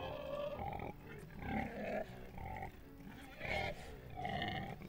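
Pigs in the farming game Farm Manager 2018 give repeated low grunts and snorts in close, overlapping bursts over a steady background hum.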